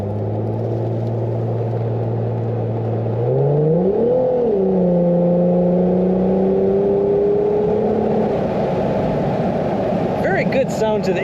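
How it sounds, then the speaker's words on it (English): A 2000 Plymouth Prowler's engine hums at a low steady drone, then swells and sweeps upward as the throttle opens, settling into a smooth sustained tone heard from inside. "Very good sound to the ears pushing on the throttle."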